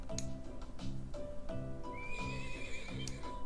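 A horse in the video game Trails of Cold Steel whinnies while steady clip-clop hoofbeats repeat under game music, the neigh rising clearly over the rhythmic trotting.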